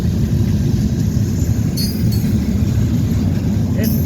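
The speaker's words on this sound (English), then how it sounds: "So, yeah, there goes the train." A train rolls past near Bessemer on a morning run, a loud continuous low rumble and clatter of rail cars with brief high squeals, heard close by under some voice.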